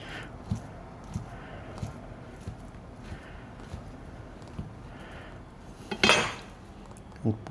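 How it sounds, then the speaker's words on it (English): A knife slices a banana with soft, muted taps on a board, several light cuts spaced through the clip and a louder clatter near the end. "let's slice some banana"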